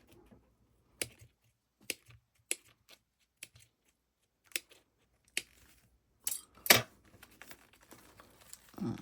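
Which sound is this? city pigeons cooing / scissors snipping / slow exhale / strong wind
scissors snipping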